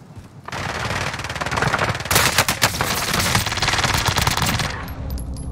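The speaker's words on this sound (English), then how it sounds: "I'm getting sniped at one of the buildings." Rapid gunfire in a Call of Duty Resurgence match, with dense overlapping shots rattling continuously for several seconds, loud and close, with sharper bursts partway through.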